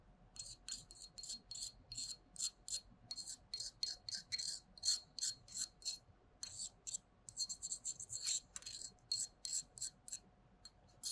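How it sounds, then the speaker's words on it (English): A spatula scraping solid residue off the inner walls of a glass mortar: repeated short, high, gritty scrapes in an uneven rhythm, close and fairly quiet, with no talking. "use a spatula and scrape it off the walls"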